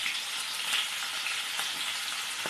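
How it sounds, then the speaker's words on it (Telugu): Stuffed black brinjals sizzle in hot oil, a steady, even frying hiss with faint crackles throughout. "ఇంక ఇవన్నీ ఇంకా ఈ ఆయిల్ వేడెక్కింది, ఇందులో వేసేస్తున్నాను."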